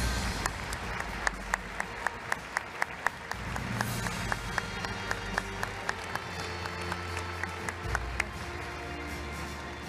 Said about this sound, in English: Ladies and gentlemen, a round of applause for our honored guests.